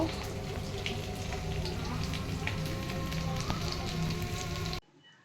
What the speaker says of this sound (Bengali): তো পটলগুলো ভাজা করছি